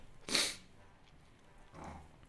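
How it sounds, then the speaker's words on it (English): A single sharp, breathy sneeze sounds close and loud, followed by a softer exhale or sniff about a second and a half later, with no talking. "So I'm going to sneeze a second"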